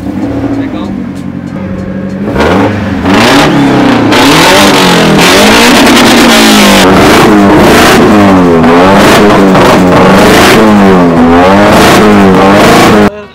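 A twin-turbo RB21 engine in a car revs and accelerates hard on the street, a loud, sustained roar with rising and falling engine pitch through repeated gear changes, with voices speaking over it.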